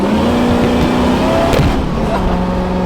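A car engine drones and rises in pitch as it accelerates while being driven, heard steadily from inside the cabin, loud and continuous.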